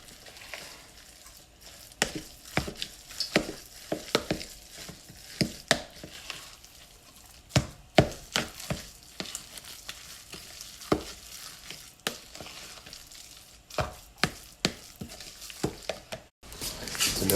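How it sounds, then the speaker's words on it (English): Peanut oil heating in a pan for salmon croquettes, a faint steady sizzle beneath repeated close clinks and scrapes of a utensil stirring against cookware. "So now we got the grease getting hot. Again, we're using peanut oil for this meal."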